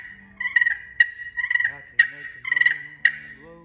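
A hand-turned cocobolo wood turkey call blown in a series of loud, close yelps and clucks, sharp repeated notes with brief pauses between bursts.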